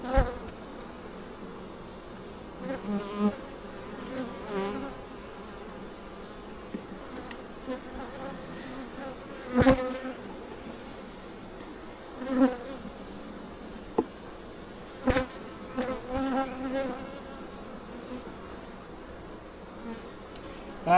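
Honey bees buzz inside a nuc hive, a close, continuous hum with several louder swells and brief bursts as individual bees pass near.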